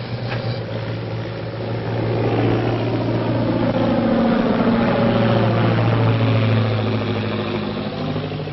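Airplane motors droning overhead, a steady low mechanical hum with engine tones that waver slightly, heard alone and fairly loud, swelling a little after the first couple of seconds.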